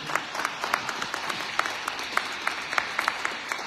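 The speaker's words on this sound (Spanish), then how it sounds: "vamos a darle un fuerte aplauso a la palabra de Dios." A church congregation claps after the Gospel reading at a Mass, a moderate, uneven patter of hands with scattered sharper claps rising above the steady spread of sound.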